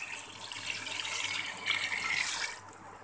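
Water is poured from a jug into a cooking pot of goat trotters (paya), making a faint, steady splashing gush that builds and then cuts off near the end.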